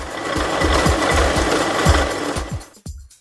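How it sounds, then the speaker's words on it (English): An embossing press takes an impression from an embossing block onto Pragoplast, a layered rubber and sponge sheet, with a steady close mechanical whirr broken by regular low thumps before it winds down and stops. "Now we take an impression from the embossing block to the Pragoplast."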